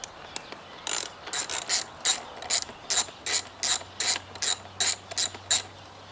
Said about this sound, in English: So once you've found your 10mm socket, you can begin to undo all of the bolts around the edge.